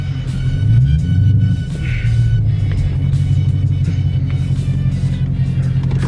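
A modified 800-plus horsepower 2019 Ford Mustang GT rumbles loudly from close by while driving, its deep engine drone steady with a brief swell of revs early on.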